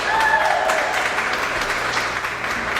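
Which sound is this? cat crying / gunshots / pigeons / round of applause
round of applause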